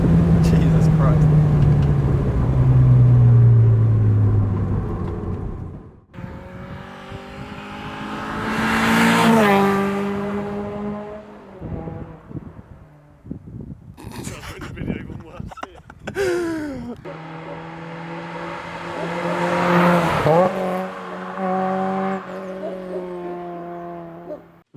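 A Renault Megane RS 275 Nav S driven fast, its engine climbing through two long revving pulls with shifts in between, loud and close, while people talk and exclaim over it.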